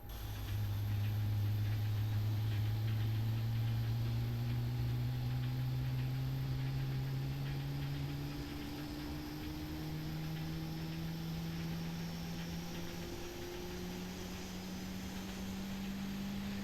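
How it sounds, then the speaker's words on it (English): The number 2 engine of a PMDG 777-300ER spools up in the Prepar3D flight simulator during pushback at San Francisco, a steady turbine whine climbing slowly in pitch over a constant roar, with no talking. "I'll let you guys listen to number 2 engine start up as we get pushed back"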